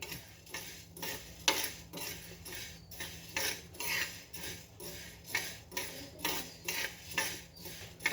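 A spatula turns food frying in a pan, a faint, steady series of rhythmic scrapes and metal clinks repeating about twice per second over low background noise.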